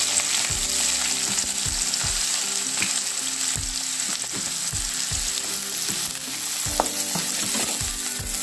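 Green chilies and chopped shallots fry in hot oil for a Kerala Onam ginger curry, giving a steady, loud, close sizzle with repeated low knocks of stirring, and no voices.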